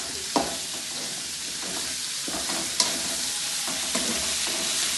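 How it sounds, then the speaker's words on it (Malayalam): Onions frying and being stirred in hot oil left over from frying chicken, a steady close sizzle with occasional scrapes and clinks of the spoon against the pan, no talking. "ഇതിലേക്ക് തന്നെ ഞാൻ ഉള്ളി വാട്ടാൻ വേണ്ടിയിട്ട് ഇടുന്നുണ്ട്. ചിക്കൻ പൊരിച്ച എണ്ണയിൽ"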